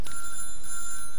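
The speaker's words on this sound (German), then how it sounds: "So, und wieder ein Telefon." An in-game telephone rings in the workshop-management game Little Big Workshop: a steady, bright electronic ring sustained through the whole short moment, clear and unaccompanied by talk.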